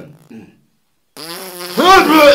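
Comedic fart sound effect in a schoolroom sketch, a short rising harmonic buzz that swells louder near the end, loud and close, following brief faint talk.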